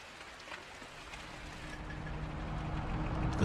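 Light rain patters softly on a home in the morning, a faint, steady hiss that swells gradually louder over a few seconds.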